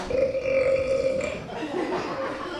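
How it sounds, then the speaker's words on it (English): A baby lets out a long, loud, rumbling burp up close, a drawn-out tonal belch that fades into a breathy tail. "that's a mighty impressive belch there, young lad"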